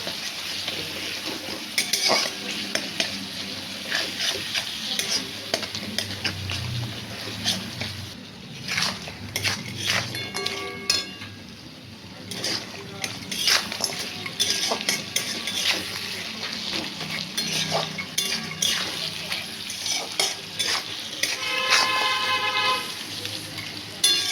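Puti fish and spice masala fry in a pan with a constant close sizzle, broken by frequent scraping stirs and light metallic clinks of the utensil.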